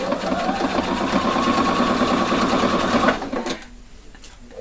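An ordinary lockstitch sewing machine stitches a zipper with facing onto a jacket front, running in a steady, loud, fast mechanical chatter for about three seconds before stopping abruptly, followed by brief handling noises.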